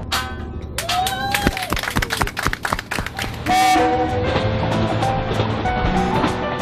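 A Japanese Resort Shirakami local train rumbles along the rails with rhythmic clacks over the track joints, then a steady tonal drone as it continues moving.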